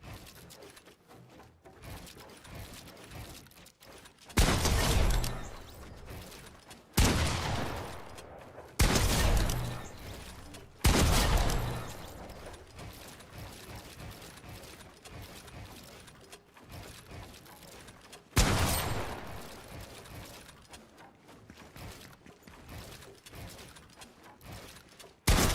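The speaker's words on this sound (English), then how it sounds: "Practice taking some shots on this first sentry here." Gunfire in a video game, aimed at an enemy sentry: several loud bursts of shots at irregular intervals, each a few seconds apart, over quieter game ambience.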